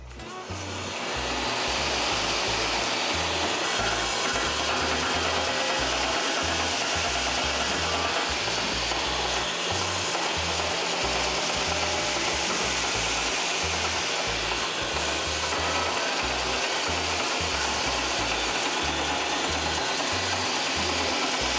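A 1947 Busch-Sulzer diesel generating engine runs with a loud, steady, rhythmic low thumping and a constant mechanical clatter that continues without a break.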